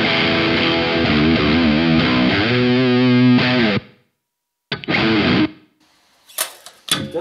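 Distorted electric guitar played through a Two Notes Torpedo C.A.B. M cabinet simulator with a small reverb, a sustained chord and notes cut off into ringing tails, then short strummed bursts.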